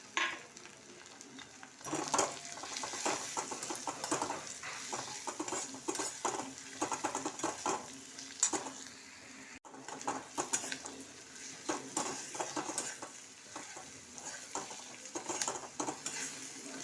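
Turmeric and coriander powder fry with chopped green chillies in a pan for a rohu curry. A steady sizzle continues throughout while a spoon stirs and scrapes repeatedly against the metal.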